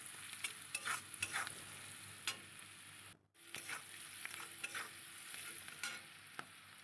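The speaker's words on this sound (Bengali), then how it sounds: "বেশ পেঁয়াজটা ভাজা ভাজা হয়ে গেছে, সুন্দর একটা গন্ধ বেরোচ্ছে" Onions frying in a pan with turmeric and salt for a Bengali tangy egg curry, sizzling steadily close up, with repeated stirring clatters and a brief drop-out partway through; no talking.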